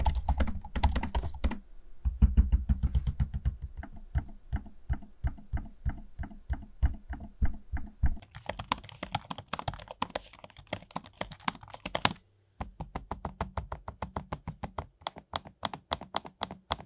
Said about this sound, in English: I'll do a quick test for you of the trackpad and the keyboard so you can hear both